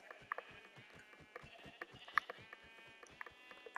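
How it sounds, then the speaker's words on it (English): Sheep bleating in the video game Minecraft, a few short, moderately quiet bleats spread over a background of repeated soft game clicks and footstep-like taps. "Oh, there's sheep right there."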